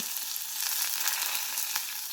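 Steady hot-oil sizzle of a large, finely chopped onion frying, a dense continuous crackle close by with small pops, no voices.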